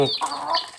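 A brief, close cluck from a Lukkoy Panat game-fowl mother hen with nine chicks blends into a short, rising burst of calls.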